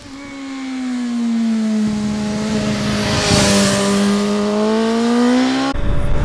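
BMW S 1000 RR superbike engine with 199 horsepower, a loud steady high-pitched howl held at high revs, its pitch dipping slightly and then climbing again before cutting off abruptly.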